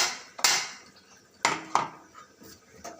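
A spoon clatters against a pot while Telangana-style pachi pulusu is mixed with sesame and peanut powder, giving a few sharp metallic knocks spaced about a second apart over a quiet kitchen background.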